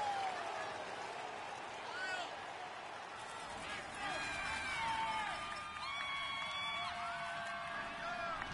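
A stadium crowd cheering in a Madden NFL video game before a Cleveland Browns versus Los Angeles Rams matchup, a steady wash of distant crowd noise with whistles and whoops beneath a commentator's voice.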